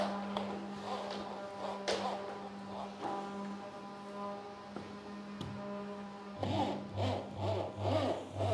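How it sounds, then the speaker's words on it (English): A cordless drill drives screws into a floor track for laminate moulding, giving a steady motor whine with short bursts and pauses, then a louder, rougher stretch of driving near the end, close by. "So let's finish drilling the screws in"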